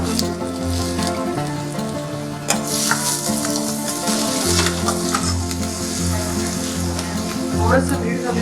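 Finely chopped green capsicum sautéing in a hot pan, a loud, continuous close sizzle with scraping stirs and a few sharp clinks of the spoon against the pan.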